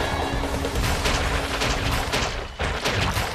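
A cartoon capture cannon fires in a dinosaur patrol animation, a dense rapid volley of booming shots and crashing impacts, loud and continuous for several seconds.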